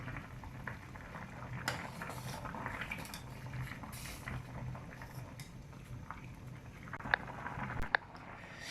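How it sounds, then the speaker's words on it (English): Spaghetti noodles boiling in a pot of water make a quiet, continuous bubbling patter, with a couple of faint clicks near the end. "So let it boil to 6 to 10 minutes."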